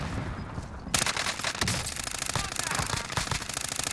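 Rapid automatic gunfire in the battle royale game Warzone, starting abruptly and continuing as dense, loud bursts of shots for several seconds.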